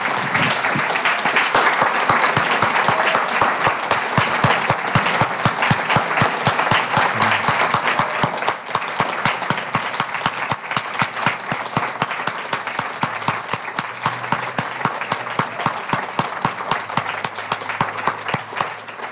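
Sustained, loud audience applause following a poetry reading by Jane Hirshfield, a dense steady roar of many hands clapping close by that holds throughout with only a slight easing partway.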